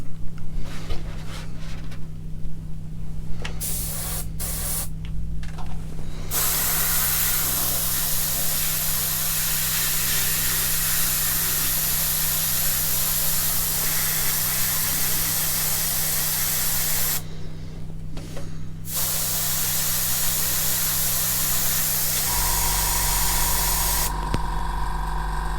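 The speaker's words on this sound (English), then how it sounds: "I've got some Tamiya PS5 in the airbrush" An airbrush sprays Tamiya PS5 paint onto a clear Lexan RC car body in a continuous close hiss. A steady low compressor hum runs underneath, with a few short pauses in the spray.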